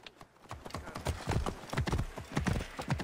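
Horse hooves clip-clop at a quick, steady gallop in Assassin's Creed Origins, a dense run of loud thudding beats with no voices over them.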